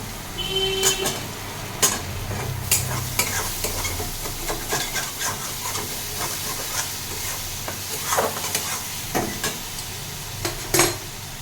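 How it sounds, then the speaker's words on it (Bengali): A vegetable curry with green chillies is stir-fried in a pan, with continuous sizzling and repeated clanks and scrapes of a spatula against the metal, loud and close with no speech. "এটাকে ভালো করে কষিয়ে নেব।"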